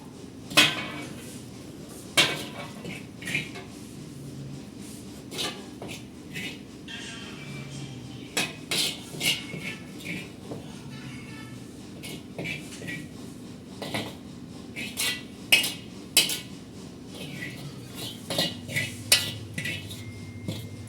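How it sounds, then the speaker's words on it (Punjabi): Bitter gourds lifted out of a cooking pan into a bowl, giving a series of sharp metallic clinks and scrapes of utensil against cookware, irregular and close, with a low steady background hum. "ਹੁਣ ਇਹਦੇ ਵਿੱਚੋਂ ਕੱਢ ਦਿੰਨੇ ਆਪਾਂ ਇਹਨੂੰ ਕੱਢ ਕੇ ਬਾਉਲ 'ਚ ਪਾ ਲੈਣੇ"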